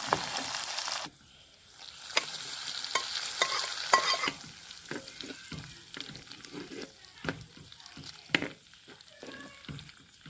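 Hot tempering of fenugreek seeds, cut green chilli and curry leaves poured into a mango pulissery curry, bursting into a loud sizzle that settles into spoon stirring and scattered pops and clinks.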